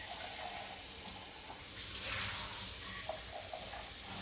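Water runs into an empty bean can at a kitchen sink, a steady soft hiss and splash with faint clinks, fairly quiet and continuous throughout.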